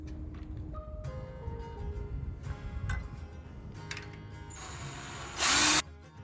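A power drill drives screws for a hinge and self-closing latch on a homestead stable, with faint whirring bursts, small ticks and knocks, and a loud short buzz near the end.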